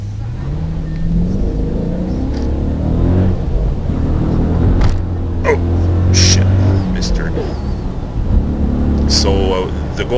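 A car engine drones and rises in pitch during acceleration runs while being data-logged with an OBDII reader, a steady low rumble carried under continuous close talking.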